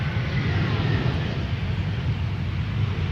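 Jet aircraft D-AIUM, a nine-year-old airliner, rumbles at Amsterdam Schiphol Airport with a steady, broad low roar of engine noise and no clear talk over it.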